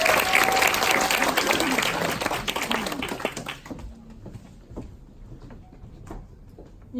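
Audience applause at a Korean business leadership meeting as a speaker comes up, a dense burst of clapping that thins and fades after about four seconds into scattered claps and quiet room noise.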